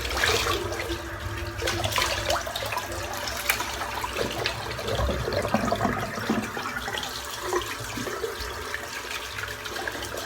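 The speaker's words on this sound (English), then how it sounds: "Right, let's get rinsed off." Tap water runs steadily into a sink while a shaving brush loaded with goat's milk shaving soap lather is rinsed, a continuous close splashing and gurgling with no talking.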